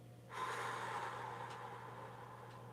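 A slow, deep exhalation during a guided breathing exercise, a soft airy rush that swells in and then fades gradually, quiet and close against a low steady hum.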